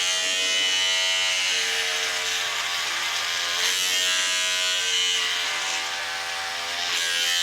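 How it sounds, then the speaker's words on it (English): An electric hair clipper buzzes steadily and close up during a buzz cut with an ice pick taper, a continuous high motor whine that shifts slightly in pitch as it moves through the hair. "Turn that clipper on"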